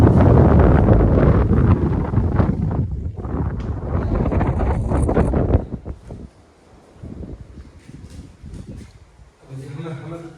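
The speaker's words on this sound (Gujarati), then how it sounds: "કેવો મસ્ત પવન આવે" Strong wind roars and buffets the microphone at a hillside temple while people talk over it, then eases into lighter gusts with a few quieter voices.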